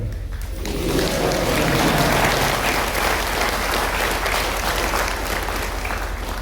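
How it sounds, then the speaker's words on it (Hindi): A church congregation at a deacon ordination of two seminarians breaks into loud applause that swells within the first second and stays full and steady to the end. "तालियां बजा लें।"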